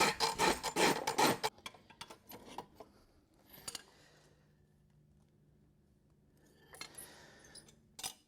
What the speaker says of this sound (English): I also need to rasp a little on this toe.